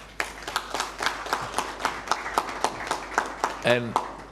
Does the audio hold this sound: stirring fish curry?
no